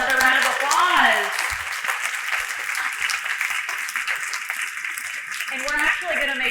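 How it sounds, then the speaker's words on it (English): Audience applause for a keynote speaker at a healthcare conference event, a steady roomful of clapping sustained throughout, with a voice speaking over it at the start and end. "I think she deserves another round of applause."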